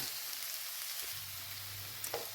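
Onions softening in a pan, giving a soft, even sizzle throughout with a faint low hum underneath and one brief clink near the end.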